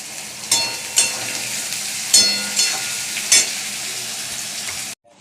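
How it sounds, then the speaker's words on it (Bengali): Onions fry in a pan with a loud, close, continuous sizzle, broken by several stirring scrapes before the sound cuts off abruptly. "পেঁয়াজটা ভাজা হয়ে গেল।"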